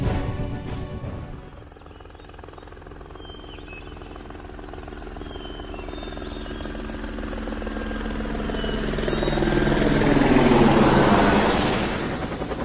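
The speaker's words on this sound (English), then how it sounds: "The News 7 helicopter was flying low over the Shenandoah Valley." A News 7 helicopter flying low over the Shenandoah Valley, its rotor thumping steadily. It grows louder as it draws near and overhead, then begins to fade, with no voices over it.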